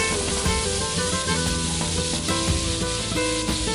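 Peppers sizzling and charring in a hot pan for Spanish tapas, a steady close frying hiss with small crackles and pops throughout, no voices.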